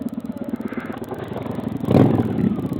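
A Honda Shadow motorcycle ridden through fresh snow on an icy road, its engine note a steady low rumble that swells louder near the end, with clattering and wind mixed in.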